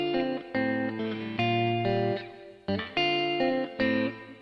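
Electric guitar washed in heavy reverb during a band rehearsal, with sustained chords ringing and blurring into one another at a steady, loud level, each new strum swelling over the lingering tail of the last.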